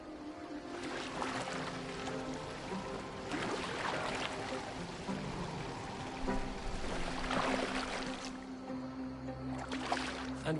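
A boat moves across the water in Assassin's Creed Valhalla, with steady splashing and lapping of water under soft creaks of the hull. The sound is faint and continuous, and no one talks over it.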